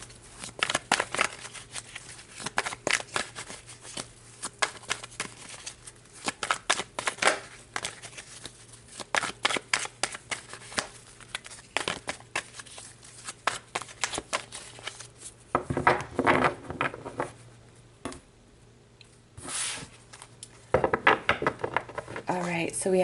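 Tarot cards are shuffled by hand in a fast run of crisp, dry riffling clicks and slaps, close and fairly loud, with a short pause before the shuffling resumes.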